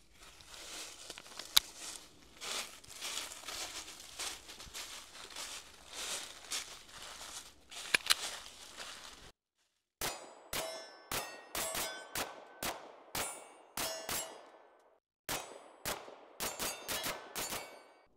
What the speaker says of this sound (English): So we're going to shoot these back to back and see how they feel. All right, so let's start off with this Canik.